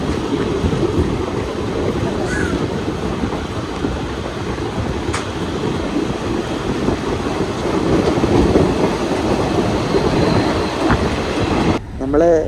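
A Nilambur passenger train rolls along the rails near Shoranur with a continuous low rumble and rhythmic clatter of wheels, heard steadily from inside the carriage, with faint squeals and a brief voice near the end.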